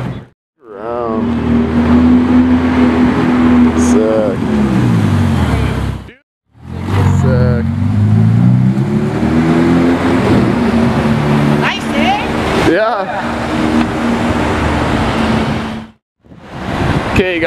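Ferrari V8 engine revving loudly at close range, with rising and falling pitch sweeps as it accelerates through gears, broken by brief gaps; a voice talks over part of it.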